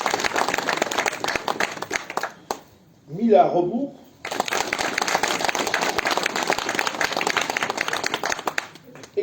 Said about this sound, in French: mais on peut l'applaudir quand même